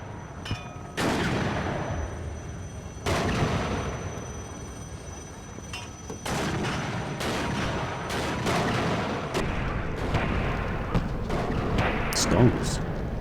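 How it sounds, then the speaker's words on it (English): Mortar and artillery fire in the Cold War strategy game WARNO comes as repeated sharp booming blasts at irregular intervals, separated by rumbling, crackling battle noise. "Or you can even get in close with a frankly insubordinate amount of mortars."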